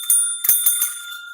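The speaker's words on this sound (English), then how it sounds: "with the hotel bell." Hotel service bell struck as a sound effect, a few bright metallic dings in quick succession leaving a clear, sustained ringing tone, loud and close.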